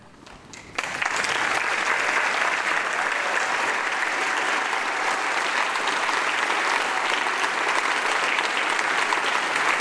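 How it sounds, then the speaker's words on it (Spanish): An audience applauds after a children's choir concert in Morelia, Mexico, and the sustained, dense clapping starts abruptly and holds steady and loud throughout. "el público reconoció la actuación de los niños en la ciudad de la Cantera Rosa con un minuto de aplausos"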